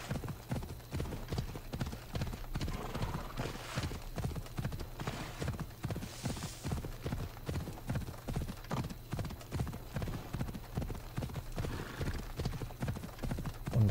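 Horse hooves galloping steadily in the video game Assassin's Creed Odyssey, a continuous rhythmic clip-clop throughout with occasional snorts, loud and close.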